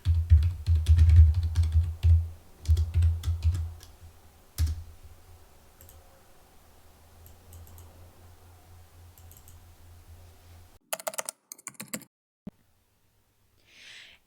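Computer keyboard typing an error message in an Excel spreadsheet, a quick run of close clicking keystrokes that thins out into a few isolated taps, with no talking.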